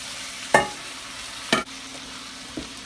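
Peppers and onions fry in a pan for a home-made curry, a quiet sizzle under three sharp stirring scrapes about a second apart, the last one softer.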